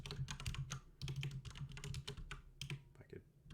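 Fingers tap on a computer keyboard while Python code is written, producing quick, close clusters of light clicks with brief pauses between bursts.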